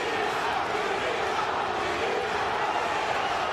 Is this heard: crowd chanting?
yes